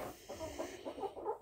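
Backyard homestead hens give a short run of soft, rhythmic clucks close by, several quick low calls in a row with no talking.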